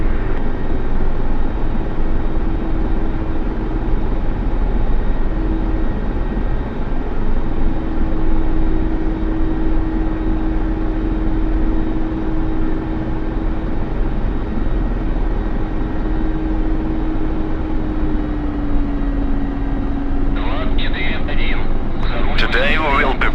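A Mi-24 Hind military helicopter runs with a constant loud engine whine and rotor drone, steady and close for the whole stretch, with a small rise in pitch and a few sharper noises near the end.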